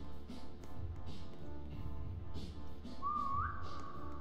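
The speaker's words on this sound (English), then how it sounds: "I whistled." A single short rising whistle near the end of a Roblox 3008 game scene, faint under a steady humming backdrop of game ambience.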